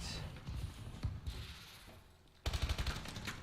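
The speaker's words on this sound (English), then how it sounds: "Atlas wins that gun battle, but Bills then gets the trade" Bursts of gunfire from a gun battle in a Capture the Flag match on the map Ascend in a competitive video game, with rapid shots coming in clusters, the loudest near the end, and fairly faint overall.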